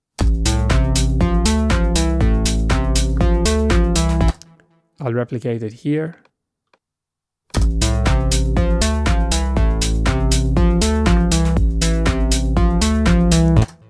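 Second species counterpoint example: a counterpoint line entering after a rest against a fixed melody, played as sustained steady tones with a clear pause in the middle and a short spoken aside before the music resumes.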